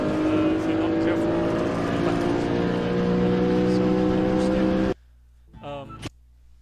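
A BMW M3 Compact race car howls steadily at high revs around Zolder circuit for about five seconds, loud and close, then cuts off abruptly, leaving a brief murmur of voice.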